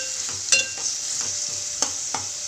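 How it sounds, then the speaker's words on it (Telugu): Chopped ripe tomatoes frying in a pan for drumstick-tomato curry, with a steady close sizzle and several distinct stirring scrapes spaced through it, no voices. "మగ్గిన తర్వాతకి సన్నగా తరిగి పెట్టుకున్న టమాటా యాడ్ చేసుకుంటున్నాను."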